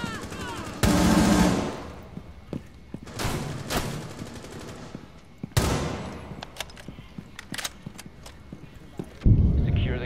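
Gunshots from a weapon in Rainbow Six Siege crack out in a few loud, separated single bursts amid quieter clatter and scattered smaller hits.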